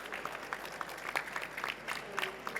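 Audience at a healthcare conference applauds its advisory board members, with faint, scattered clapping heard from a distance in a large room.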